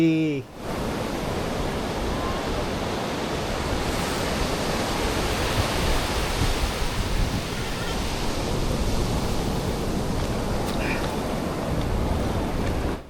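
Steady roar of ocean surf washing over a beach on the Kerala coast, constant and broadband, filling the whole stretch without any voices.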